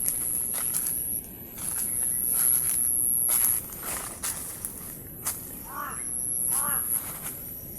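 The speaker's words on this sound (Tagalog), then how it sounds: "Tingnan nyo yung uwak guys, parang may babala." A crow caws a few times outdoors near trees, harsh calls rising over a background of rustling steps and ambient noise, with a faint high whine running throughout.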